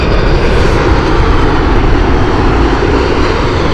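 A WestJet airliner's jet engines roar steadily and loudly at Heathrow Airport, a dense unbroken wash of engine noise close by with no voices.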